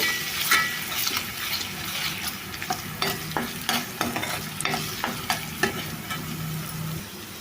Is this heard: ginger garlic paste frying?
yes